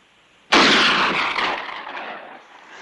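A western movie shootout: a sudden loud burst of gunfire that opens with a sharp crack and rolls on into a dense, echoing barrage before falling off, with no voices.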